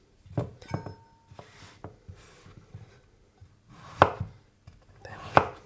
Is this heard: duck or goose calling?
no